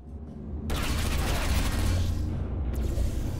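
Turrets firing in the puzzle game Portal Reloaded, a dense sustained rattle that starts abruptly and fills the space loudly and continuously.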